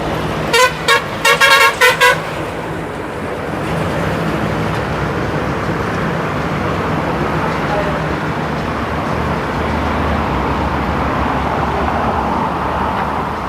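A lorry rumbles past on the Pune–Mumbai Expressway, opening with a quick cluster of loud, repeated horn blasts before settling into a steady, broad roar of passing traffic that lasts throughout.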